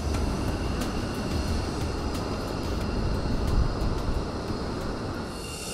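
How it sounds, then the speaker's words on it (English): F-35A stealth jets taxi and take off one after another at an air force base, producing a loud, continuous, broad jet-engine roar that holds steady throughout with no voices. "several F-35A taxied toward the runway and took off one after another in nose-to-tail formation"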